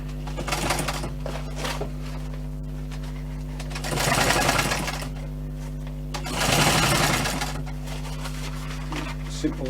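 Sewing machine stitching a bushcraft water bottle and utility pouch, two loud rattling runs of rapid stitching separated by pauses, close over a constant low hum, with someone talking in between.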